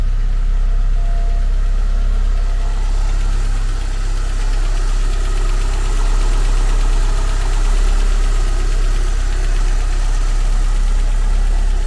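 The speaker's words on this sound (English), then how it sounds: "Very smooth running engine." Cold 1990 Porsche 944 S2 engine idling smoothly, a steady deep low hum with faint mechanical ticking, close and constant for the whole stretch, no voices.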